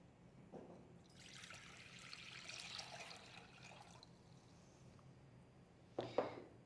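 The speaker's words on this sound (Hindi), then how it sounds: "सबसे पहले हम इसमें पानी डालेंगे, जो हमने यहाँ पर 1 लीटर मेज़र कर लिया है" One litre of measured water pours into a container for making potato dextrose agar, a steady splashing rush lasting a few seconds, with a louder splash near the end in a quiet room.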